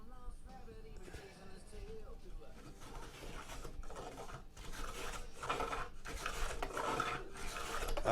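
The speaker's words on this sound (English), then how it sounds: "I've got this set for very shallow passes. I don't like getting overly aggressive with my plane" A hand plane set for very shallow passes rasps along a board on a 1920 parlor piece rebuild, with a string of repeated scraping strokes that grow louder toward the end and some faint talk early on.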